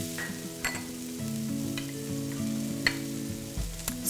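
Seared beef sizzles steadily in a hot pan as ginger paste and garlic paste are stirred in, a continuous close frying crackle with occasional scraping clinks of the utensil and no voices.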